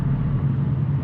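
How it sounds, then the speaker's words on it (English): A motorcycle engine drones behind a BMW M4 on the highway, a steady low hum with a pronounced tonal note, heard from inside the car for about a second. "That's a motorcycle behind me."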